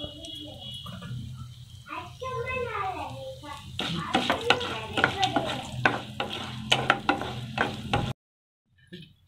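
Red chilies and asafoetida powder fry in sesame oil for tamarind rice, giving a close sizzle with stirring scrapes. A voice is heard over it, and the sound stops abruptly near the end.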